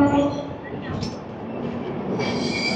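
The Howrah to New Jalpaiguri Shatabdi Express, train 12041, rolls out of Malda Town station with a steady close rumble of wheels on rails. Faint squeals and whine sound over it.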